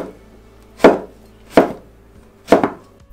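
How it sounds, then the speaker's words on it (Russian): A knife chops through a cucumber on a board in three distinct close, crisp strikes spaced about a second apart, the last doubled, over a quiet background. "Нарезаем огурец."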